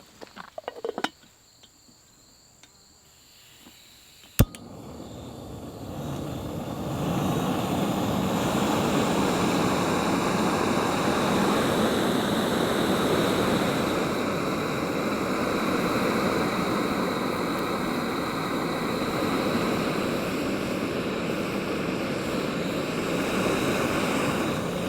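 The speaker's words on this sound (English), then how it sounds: "let's do a quick boil test here so you all can see this pot in action" Water heats in a camping pot over a stove, with a steady loud roar that starts after a few seconds of quiet and small clicks, then holds a constant hiss and rumble.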